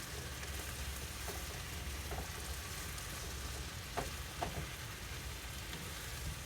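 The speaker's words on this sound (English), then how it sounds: "so now we'll stir the onion in, kind of let that cook down a little bit" Onion cooking down in a pan for hot dog hash, giving a steady low frying sizzle with a few faint stirring scrapes, close and moderately quiet with no voices.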